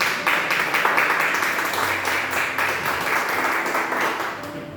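A church congregation applauding during a worship service, dense steady clapping from many hands that holds for several seconds before easing slightly toward the end.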